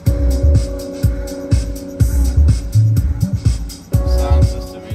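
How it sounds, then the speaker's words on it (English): Music plays through the sound system of a Volkswagen Amarok Canyon pickup at low volume, with a steady rhythmic beat and sustained tones filling the cabin, no talking over it. "Sound system is very, very good on this car"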